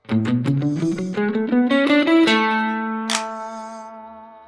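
Electric guitar alternate-picks a fast ascending sixteenth-note triplet run, each note climbing steadily higher before settling on a final ringing note, played alone.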